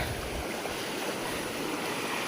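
Rain-fed water rushes continuously along a Konkan stream after the first monsoon rain, a dense, steady wash of noise close by with no voices.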